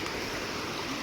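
A river stream near a village flows in a brief, soft, continuous rush of water, faint and heard alone.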